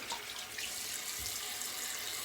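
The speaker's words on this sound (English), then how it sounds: "so do the old cold water rinse" Cold water runs steadily from a tap as a face is rinsed after a shave, a continuous close, even rush of splashing water with no pauses.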